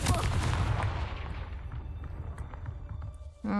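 Confringo fire spell in Hogwarts Legacy going off as a loud booming blast that rumbles and fades over a few seconds, followed by a short new sound at the end.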